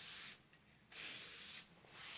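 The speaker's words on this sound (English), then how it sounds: "all you do is spray" Liquid starch is sprayed from a spray bottle, probably over a sink, in a few soft hissing bursts with pauses between them, close and quiet, with no talking.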